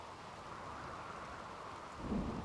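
Rainy thunderstorm in the RimWorld video game, with a steady hiss of rain throughout and a low rumble of thunder swelling near the end.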